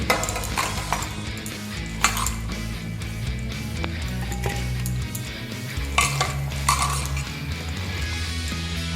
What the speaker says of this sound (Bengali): এবার এর মধ্যে ম্যারিনেট করা চিকেনটা আমি দিয়ে দিচ্ছি